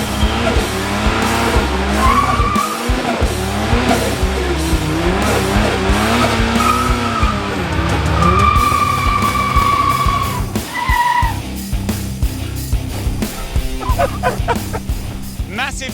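Tires squeal and screech repeatedly as a turbo Toyota Hilux skids at a dragway, its engine revving and roaring nearby, with voices talking and shouting over the noise.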